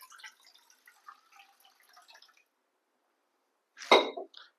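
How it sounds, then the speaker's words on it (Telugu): Normal water poured into a bowl while making rasam, a brief burst of splashing liquid near the end after a stretch of faint clinks and near silence. "ఇందులోకి కొంచెం నార్మల్ వాటర్ యాడ్ చేసుకుందాం."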